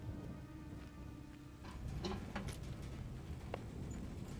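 Rain drumming steadily on the metal body of a car in the survival video game SCUM, a dense pattering wash with scattered sharper drops and distant thunder-like rumble, continuous throughout without talk.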